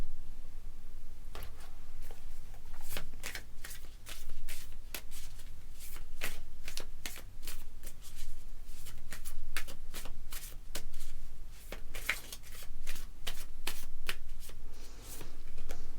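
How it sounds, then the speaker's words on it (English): Tarot cards are shuffled continuously by hand, close and fairly loud, a long run of rapid riffling bursts and soft slaps with brief pauses between passes and no talking. "Let me take out 3 more cards for you."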